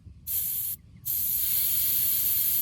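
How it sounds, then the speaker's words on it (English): Air hisses sharply out of a tire's Schrader valve in two bursts, a short spurt, a brief pause, then a longer steady hiss, close and loud. "push in on that Schrader valve. Hear the air coming out?"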